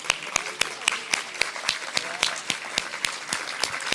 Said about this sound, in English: So I think we can give another round of applause.